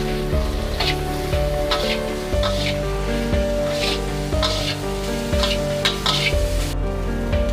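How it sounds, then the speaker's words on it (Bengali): Soybean chunks fry in a pan for a soy curry, a steady close sizzle with repeated stirring scrapes across the whole stretch and tonal music playing underneath. "এবারে সয়াবিনটা ভালো করে ভেজে নেব।"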